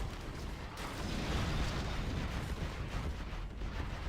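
Scud launcher artillery fire rumbles through a battle in the real-time strategy game C&C Generals, a dense, continuous roar of blasts that swells after the first second and holds steady.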